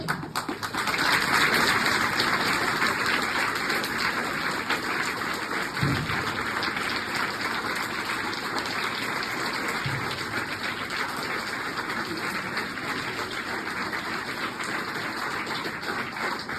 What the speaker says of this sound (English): the applause is so long and so loud